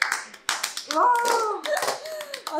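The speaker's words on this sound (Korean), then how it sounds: "박수" A few people clap hands in brief, uneven bursts at close range, mixed with excited voices, a child among them, during a casual get-together.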